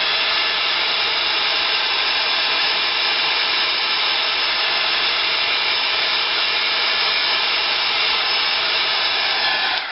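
A hair dryer blows steadily and loudly for the whole stretch, drying alcohol ink on a craft tag, with a constant whooshing roar that holds even from start to finish and cuts off right at the end.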